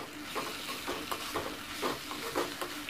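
Onion chutney with tomato, curry leaves, mint and coriander sizzles softly in a pan while a spoon stirs it, leaving a quiet, close hiss broken by a series of light, regular scraping strokes.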